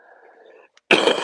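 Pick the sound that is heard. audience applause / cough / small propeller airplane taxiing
cough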